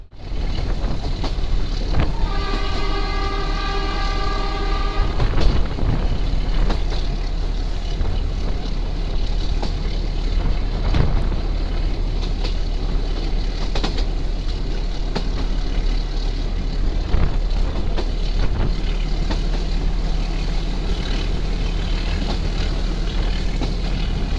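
A heritage train rides through the Goram Ghat in Rajasthan with a loud, continuous rumble and heavy wind buffeting. A faint horn-like tonal sound comes briefly near the start.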